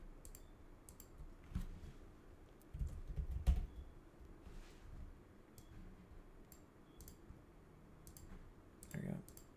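Computer mouse clicks sound while working in Cinema 4D 3D software, scattered quiet taps and short bursts of clicking, with some speech in between.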